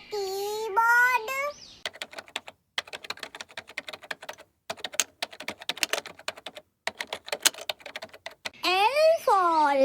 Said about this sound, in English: K for keyboard.